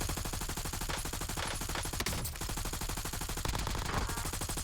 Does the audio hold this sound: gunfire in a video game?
yes